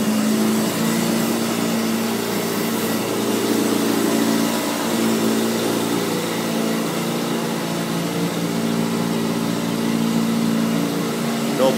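A BMW V12 engine run on a Haltech Platinum Sport 2000 ECU hums at a steady idle, loud and close, with a faint voice briefly beneath it.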